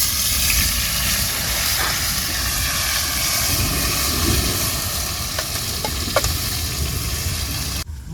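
Ground spice paste hits very hot oil in a home kitchen pan, giving a loud, steady hiss and sizzle with a few faint clinks before it cuts off abruptly near the end.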